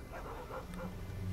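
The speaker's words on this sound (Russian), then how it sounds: "Собаки." Dogs barking and yipping in the video game S.T.A.L.K.E.R. Clear Sky, a few short muffled barks over a steady game background hum.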